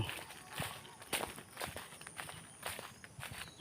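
Footsteps move along an outdoor path near a compound boundary, a steady run of soft, close crunching steps with faint background noise.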